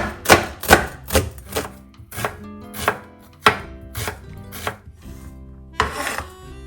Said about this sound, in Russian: Лук нарезаю мелко.